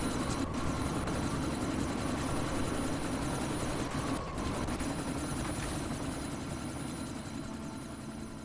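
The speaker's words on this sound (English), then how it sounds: "you need to disable that chopper" A helicopter in the video game Deus Ex: Mankind Divided drones steadily with a dense rotor and engine roar, heard amid a sandstorm, constant and fairly distant throughout.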